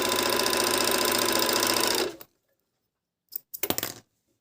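A MEDION MD10685 overlock sewing machine stitches fabric in a loud, fast, steady run for two seconds, then stops; after a silence comes a short burst of handling clatter.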